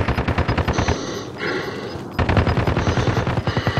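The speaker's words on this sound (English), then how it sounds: "He's shooting off a balcony, I would say." Rapid automatic gunfire from a balcony in Call of Duty, loud, close bursts of evenly spaced shots with a brief pause midway before the firing resumes.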